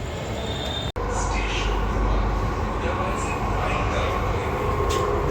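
A Delhi metro train rumbles steadily, with a continuous low roar and a brief dropout near the start, voices faintly under it.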